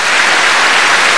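Audience applause at an Indonesian talk event, a dense steady wash of clapping filling the whole short moment without pause.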